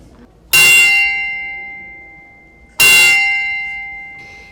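Two loud bell strikes ring out a couple of seconds apart, each with a bright clang followed by a long, slowly fading metallic hum.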